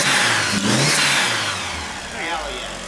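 Turbocharged Mitsubishi Mirage Evo engine revs up and falls back with a rising and falling mechanical roar, close and loud, and voices talk over it.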